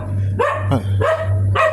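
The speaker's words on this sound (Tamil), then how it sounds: "இந்த நாய் என்னை பின்தொடர்ந்து வந்து கொண்டிருக்கின்றது" A dog on a street in Seminyak, Bali, barks three or four times in quick sharp bursts, loud and close, with a whimpering yelp between barks over a low steady hum.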